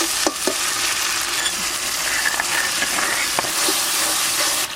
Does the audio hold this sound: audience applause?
no